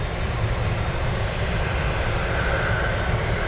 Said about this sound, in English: Mad Dog, Everett's Air Cargo, we're waiting for it. It looks like it's landing on runway 7.